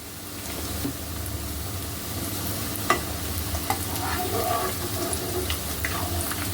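Steamed cabbage vadi shallow-frying golden on both sides in hot oil, giving a steady, close sizzle with a few light clicks and spatters throughout.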